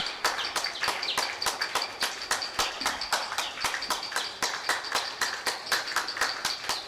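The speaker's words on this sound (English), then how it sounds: "And clapping starts already." Spectators clap in a steady, evenly spaced rhythm at a women's 10m air rifle gold medal final, crisp sharp claps repeating throughout with no voices over them.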